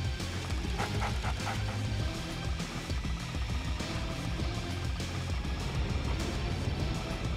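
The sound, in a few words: attack dogs barking in the video game Red Alert 2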